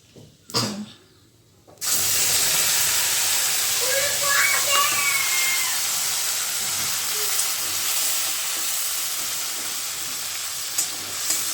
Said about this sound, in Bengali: মশলাটা পুরো ভেজে কষিয়ে নেব।